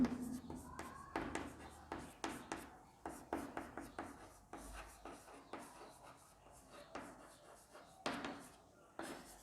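Marker or chalk writing on a classroom board in red, a rapid series of short scratchy strokes in uneven bursts, close and fairly quiet, with faint speech in between.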